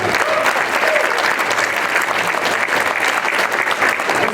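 Loud, sustained audience applause and cheering fill a hall for a bodybuilding champion at a Mr. Olympia–related event, dense clapping continuing steadily throughout with no break.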